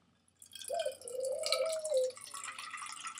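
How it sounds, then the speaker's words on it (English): Liquid pours into a vase in a steady, quiet trickle with a gurgling, rising tone lasting about a second and a half, followed by softer splashing and dribbling. "Okay, so what I'm gonna do, I'm gonna start pouring."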